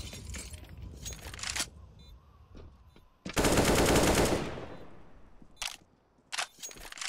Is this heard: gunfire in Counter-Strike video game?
yes